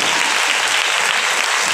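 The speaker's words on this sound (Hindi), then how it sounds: "ताली बजा के प्रभु के नाम का मुकीबा करें।" A church congregation claps together in praise during a sermon, a loud, dense, continuous burst of applause from many hands filling the room for a couple of seconds.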